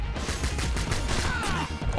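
Enemy gunfire from the side-scrolling game Bionic Commando Rearmed, a dense stream of sharp impacts and crashing shots layered over game music and effects, steady and loud throughout.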